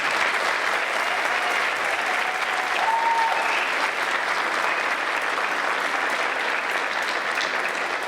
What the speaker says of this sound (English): So why don't we give all of these ladies one big round of applause.